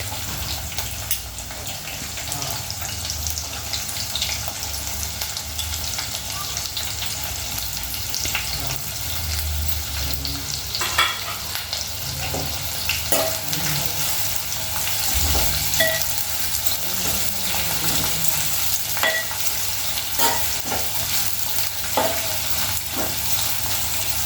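Onions and green chillies frying for a chicken fry, a steady broadband sizzle with scattered pops and stirring scrapes running the whole time, fairly close and with no talk.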